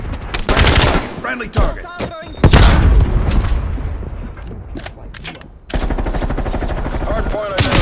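Rapid automatic gunfire from the Death Machine in Call of Duty Black Ops Cold War multiplayer, loud bursts with booms, dense and close, with a player talking over parts of it.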